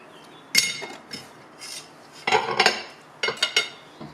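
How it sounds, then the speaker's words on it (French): A fork clinks and scrapes against a dish while mixing slices of rosette sausage and other ingredients, in a few separate bursts of tapping and stirring with quiet pauses between. "Ma fourchette. Je commence un peu à mélanger le tout."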